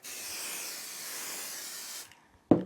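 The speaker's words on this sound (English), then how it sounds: "I'm just going to spray, and I'm trying not to get it on the front over there" A can of spray baste adhesive hisses steadily onto a quilt for about two seconds, close and fairly loud, then stops, followed by a short sharp knock.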